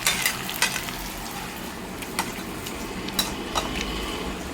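Tomatoes sizzle steadily in a pan for a Malaysian fried chicken curry, with a continuous close frying hiss broken by a few sharp clinks of a spoon stirring against the pan.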